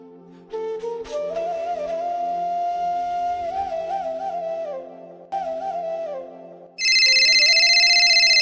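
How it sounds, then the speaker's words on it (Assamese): A phone ringtone for an incoming call cuts in loudly near the end, a bright repeating electronic tone that follows a stretch of music. "প্ৰিয়ংকা কিয় ফোন কৰিলা তুমি"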